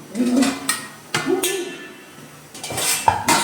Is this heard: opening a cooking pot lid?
yes